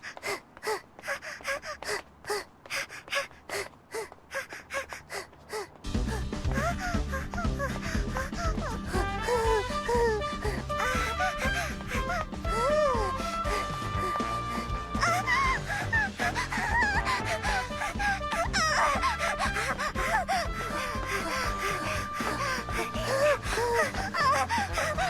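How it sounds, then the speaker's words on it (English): Anime girls from Love Live panting and breathing hard while jogging, gasping and moaning breaths over a loud, steady music track that enters after a quieter opening. "this scene in Love Live where they're like going for a jog and they're just breathing really hard."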